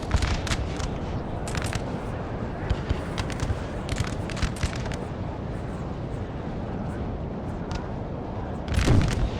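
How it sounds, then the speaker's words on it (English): Artillery cannons in Napoleon: Total War boom across a Peninsular battlefield with British riflemen: repeated distant thuds and crackling reports over a continuous rumbling battle din, ending in a louder blast. "Nice shots from my artillery though."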